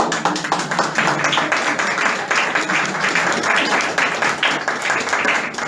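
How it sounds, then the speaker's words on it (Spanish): A church congregation claps steadily during a sermon: dense, loud, sustained applause with no break, a few claps standing out near the front. "Un aplauso."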